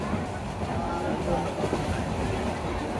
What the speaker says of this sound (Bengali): টাইম মতো ট্রেন ছেড়ে দিয়েছে বিমানবন্দর স্টেশন থেকে